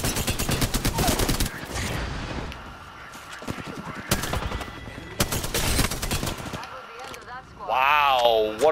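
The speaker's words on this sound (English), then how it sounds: "They're getting shot by another team." Repeated volleys of gunfire crack through a video game match, clustered bursts interspersed with quieter gaps, while a commentator talks over the action.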